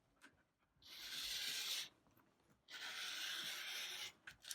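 Fabric being cut for a spiderweb quilt border, two soft sustained rasping strokes of a blade through cloth, close and quiet, separated by a short pause.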